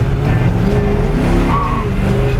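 A 1959 Ford F-100 truck with a Curry rear end and a Thor torque converter in a heavy transmission roars with a loud, close, continuous engine note while driving under throttle.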